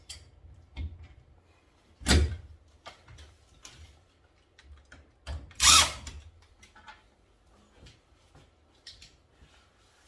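A power drill briefly drives long 3-inch screws into a wooden lumber rack storage system, with two short whirring bursts amid scattered light knocks and handling sounds, no speech.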